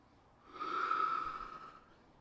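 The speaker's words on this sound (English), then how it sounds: "And then breathe." A single slow, deep breath taken during a guided emotional release exercise, a soft airy exhale that swells and fades over about a second, quiet and close with no talking.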